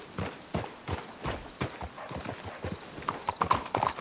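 Horses walking in Red Dead Redemption 2, a steady uneven clip-clop of several hooves on hard ground, close and moderately loud, with occasional jingling tack and a brief snort.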